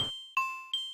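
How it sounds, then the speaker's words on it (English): Music-box style Twinkle Twinkle Little Star lullaby sample from Xenoblade Chronicles 2, three bright chime notes struck in slow even succession, each ringing and decaying, quiet and alone. "this lullaby thing. Twinkle Twinkle Little Star"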